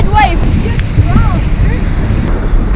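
Ocean surf rolls in a steady, dense roar on open water, heavily buffeted by wind noise against the microphone, loud and continuous throughout.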